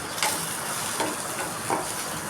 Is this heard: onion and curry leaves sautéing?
yes